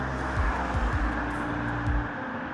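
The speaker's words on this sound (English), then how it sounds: "the S63 also has this, the EL mode, and that means the car is now fully electric" A Mercedes S63 in fully electric EL mode rolling through a tunnel: a steady low road and tire rumble with a faint whine that briefly shifts pitch, no engine roar, no talking.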